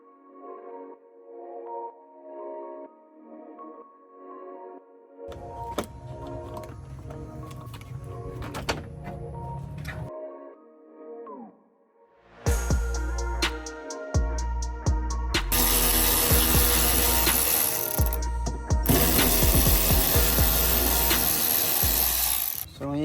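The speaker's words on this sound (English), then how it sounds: "The upper radiator shroud comes off next." Upper radiator shroud removed from a 2023 Ford F150, with ratcheting clicks, plastic creaks and mechanical clatter, then louder sustained rattling and tool noise in close, shifting bursts.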